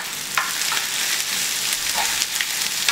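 Food sizzles steadily in a hot pan, a continuous bright crackle with a few louder stirring scrapes mixed in, close and without any talking.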